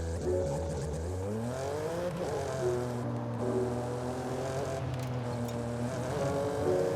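A BMW M4 in Forza Horizon 5 drives with a loud, steady engine drone that rises and falls in pitch as it accelerates and shifts, continuous and close throughout.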